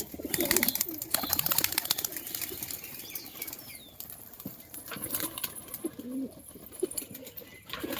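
Andhra high-flyer pigeons flap their wings in loud repeated bursts, with soft cooing woven through a busy, close loft ambience.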